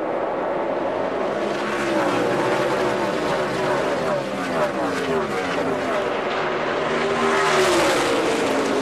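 NASCAR stock cars roaring in a pack on a restart at the 2013 Hollywood Casino 400, a dense, loud engine drone with shifting pitch as cars sweep past, with commentators talking over it.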